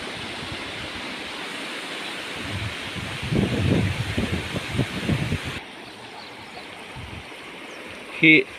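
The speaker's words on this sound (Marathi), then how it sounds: "एवढं पाणी प्रत्येकाच्या शेतातून येतं आहे" Rainwater rushing from farm fields into the Harna river after a heavy downpour near Arali Budruk, Tuljapur, a steady close watery roar with brief rustling bursts and a sharp knock near the end.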